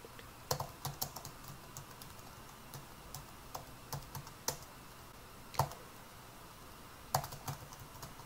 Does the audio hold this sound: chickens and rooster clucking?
no